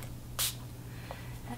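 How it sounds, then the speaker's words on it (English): One short, soft hiss of Fix Plus setting spray misted onto a MAC 239 makeup brush, close and faint against a low background hum. "I'm gonna use my Fix Plus spray and my MAC 239 brush and spray my brush with it"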